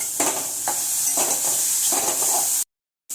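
Mushrooms sautéing with salt in a pan over low heat, a close, steady sizzle with soft stirring scrapes, ending in a brief cut to silence.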